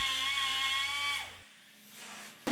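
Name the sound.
die grinder cutting metal slot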